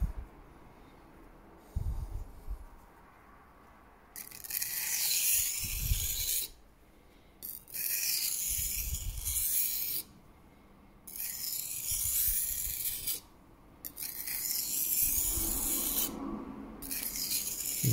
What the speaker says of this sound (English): Keeping it nice and slow and nice and light. So I'm letting the grit in the stone do the work.